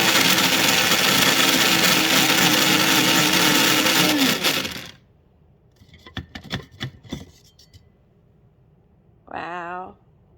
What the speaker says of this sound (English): So I'm going to use our little KitchenAid blender here. This may be a little loud